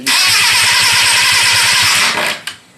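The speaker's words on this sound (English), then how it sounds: "At least it cranks up though." A Volkswagen Corrado engine cranks over with a rapid rhythmic churning for about two seconds, loud and close, then stops without catching, followed by a brief click.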